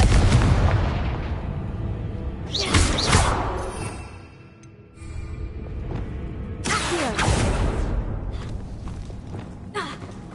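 Confringo spell cast in a Harry Potter video game, giving booming blasts with broad bursts around two to three seconds in and again near seven seconds, over continuous game ambience.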